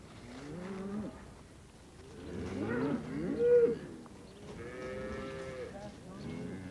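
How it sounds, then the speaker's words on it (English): Angus cattle on a farm low and moo repeatedly at close range, several drawn-out calls in a row with people talking quietly underneath. "we have a couple of Angus over here."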